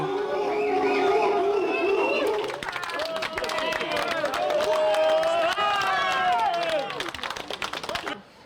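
A large crowd jeering loudly outside a town hall, many voices shouting and booing together in a continuous noisy roar that fades near the end.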